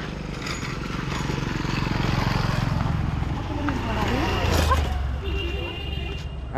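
A Bajaj NS200 BS6 motorcycle fitted with an Akrapovic R1M exhaust rumbles with a steady, deep engine drone that swells slightly mid-way, with a voice talking faintly over it.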